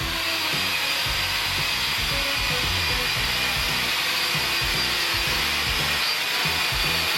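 A mid-size camera drone hovers steadily nearby, giving off a loud, continuous whirring buzz from its propellers with no voices.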